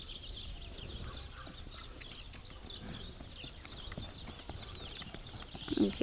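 Steady clip-clop of a horse's hooves at a walk during bridleless riding, an even rhythm close by with faint birdsong in the background.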